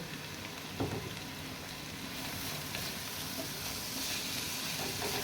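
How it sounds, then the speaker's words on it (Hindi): Onions with garlic-ginger paste sauté in a pan for a black chickpea curry, giving off a steady, even sizzle that holds for several seconds with a faint clatter early on. "इसको अच्छी तरह से भूनेंगे"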